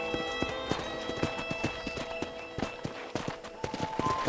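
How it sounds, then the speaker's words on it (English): Horse hooves clip-clopping at a steady trot in Red Dead Redemption on a ranch, regular close hoofbeats over a low ambient hum with faint tonal game music. "let's see if you can still ride a horse"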